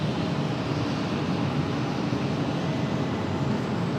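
A CRJ regional jet airliner departing Raleigh-Durham International Airport, heard as a steady, fairly distant broadband roar of jet engines that holds evenly for the whole stretch without talk.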